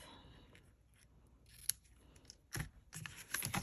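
Scissors trim off excess ribbon after a knot is tied on a greeting card, giving a few quiet, close snips near the end after soft handling rustles.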